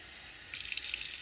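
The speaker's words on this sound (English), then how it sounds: "we are going to turn on the water and fill that up." Kitchen sink tap turned on to fill a sprouting jar with water, a faint hiss of flow that swells into a brighter, splashing gush halfway through, close and steady, with no talking.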